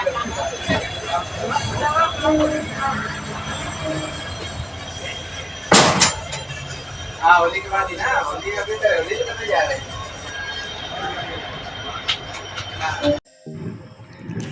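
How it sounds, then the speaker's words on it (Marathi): Inside Satara railway station, a train rumbles and squeals past amid crowd chatter and announcements, with a sharp clank midway before the noise cuts off. "आता पोचलो आहोत सातारच्या रेल्वे स्टेशनमध्ये"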